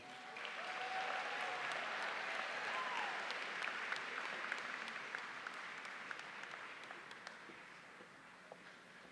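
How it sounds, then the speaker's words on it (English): Sustained applause from a large audience at a high school commencement ceremony, steady broadband clapping with a few cheers and whoops rising above it, gradually tapering toward the end. "How about a round of applause for the class of 2025?"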